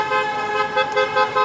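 Cars passing a Scientology protest in Clearwater honk their horns in a steady chorus of overlapping toots, with several louder pulses near the end amid road traffic.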